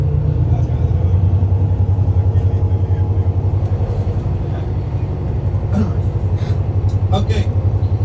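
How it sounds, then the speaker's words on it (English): Steady low engine rumble heard from inside a large bus in Limón, Costa Rica, droning continuously and loud, with faint intermittent voices and a few brief rattles over the top. "we are in the big bus"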